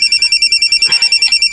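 Telephone ringing with a rapid, rhythmic electronic trill in close, loud repeated bursts, alone without talking.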